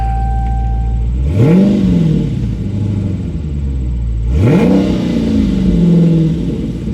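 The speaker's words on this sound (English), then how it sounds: "Borla exhaust sounds so good in this car." A 2021 Dodge Challenger R/T Scat Pack Widebody with automatic transmission and Borla exhaust revs twice, each blip rising sharply in pitch then dropping back to a deep, loud idle rumble.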